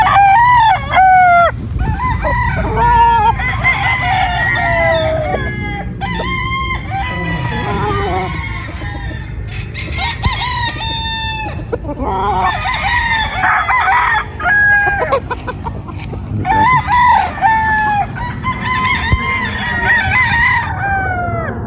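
Sweater gamefowl roosters crow repeatedly and loudly close by, several overlapping cock-a-doodle-doo calls with clucking between them, and someone talks briefly in the background.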